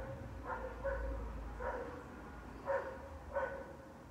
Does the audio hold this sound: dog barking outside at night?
yes